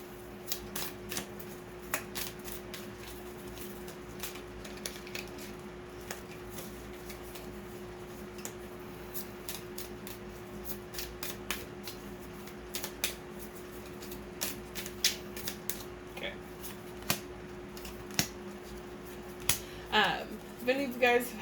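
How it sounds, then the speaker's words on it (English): Oracle cards from the Enchanted Unicorn Oracle deck are shuffled by hand, giving soft repeated ticks and papery riffles over a faint steady hum that grow busier and louder toward the end, with no talking. "Let's get into shuffling and doing messages for the 3 piles."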